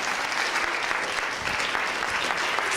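An audience at a 2013 Veterans Day program gives a dense, sustained round of applause for veteran Harvey Weiner, steady and close throughout.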